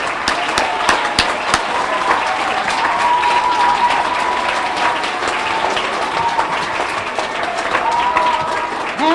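Loud school-audience applause at a Hispanic Heritage event for a fifth-grade hostess, dense clapping and crowd noise close by, with cheers and a few voices calling out over it.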